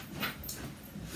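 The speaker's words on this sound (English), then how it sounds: "My dog's suddenly having a mad moment out there." A dog outdoors whimpers and yaps in a quick, agitated burst, heard at moderate distance over a steady background hum.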